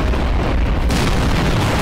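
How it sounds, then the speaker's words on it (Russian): Explosions in the video game Garry's Mod, a loud dense rumbling blast with a sharper burst near the middle, sustained noise to the end. "Серега, без взрывов никак"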